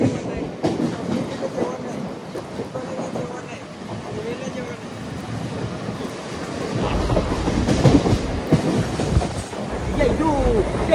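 A Mumbai local train on the Harbour line to Vashi rumbles steadily at a station, growing louder toward the end with rattling and clatter, while people talk nearby.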